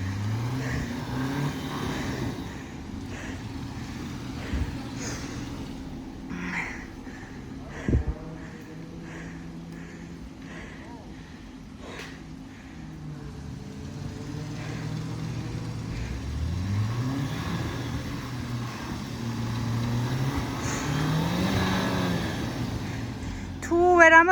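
A Jeep Wrangler engine revs and strains on an off-road festival course, a steady rumbling drone with rising and falling throttle surges, while people talk over it throughout.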